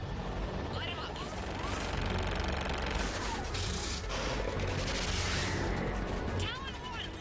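Air strike gunfire in the video game Mass Effect 3, a dense continuous barrage of shots and booms layered with radio chatter and voices throughout.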